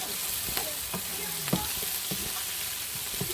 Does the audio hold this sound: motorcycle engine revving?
no